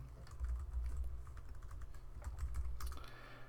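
Code being typed on a computer keyboard, a quiet, steady patter of close key clicks at an even pace with a low hum beneath, and no one talking.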